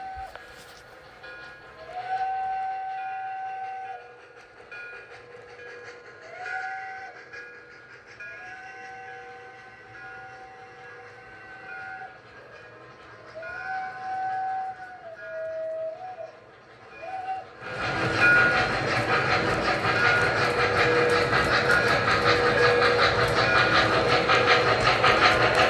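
A Pennsylvania Railroad model train on a home layout sounds a stepped, repeating whistle over a soft running hum, then a loud, steady rush of rolling wagons takes over for the final seconds.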